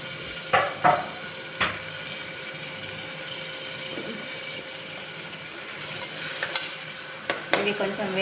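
Chopped onion fries in hot oil for mutton curry, with a steady close sizzle and occasional sharp scraping stirs and clinks of a spoon against the pan.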